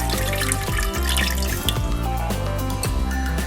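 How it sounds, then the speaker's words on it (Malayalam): About a quarter litre of water pours steadily into a pot on the stove for chicken biryani, a continuous splashing gush with gurgling bursts, close and fairly loud with no talking. "അതിനായിട്ട് പാത്രം അടുപ്പിൽ വെച്ചിട്ടുണ്ട് അതിലേക്ക് ഒരു കാൽ ലിറ്റർ വെള്ളം ഒഴിച്ചെടുക്കാം"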